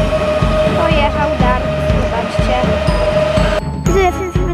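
Passenger train pulling out of Lublin Główny station in the evening, a steady rolling rumble with rhythmic clicking of wheels over rail joints and a sustained tonal hum, close by, with someone talking over it.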